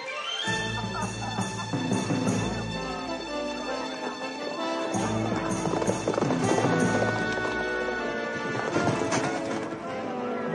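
Horses gallop with a steady clip-clop of hooves, partly buried under loud, full orchestral music that runs throughout.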